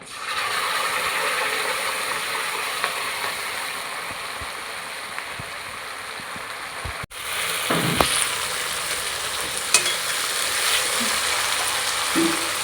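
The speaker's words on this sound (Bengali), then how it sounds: "এবার আমি যে মশলাটা করে রেখেছিলাম সেটাকে ঢেলে দেবো।" Ground spice paste for a Bengali fish roe curry hits hot oil and crackles in a pan, a steady close sizzle that is briefly interrupted and then resumes with scattered sharper pops.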